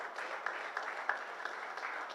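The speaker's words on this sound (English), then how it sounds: "Really a big round of applause for Sandeep Saini" Applause from an audience at a golf championship ceremony, a soft and steady patter of clapping with a few louder claps standing out, moderately distant and heard alone.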